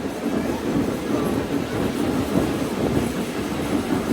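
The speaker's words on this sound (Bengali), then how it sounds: "আমাদের ট্রেনটি এখন নগরকান্দা রেল স্টেশনের মেন লাইনে যাত্রা বিরতি প্রদান করবে" The Ovijatri Commuter train, travelling from Dhaka to Gopalganj, runs on the rails near Nagarkanda station with a dense, continuous rumble and clatter of wheels heard from inside the carriage.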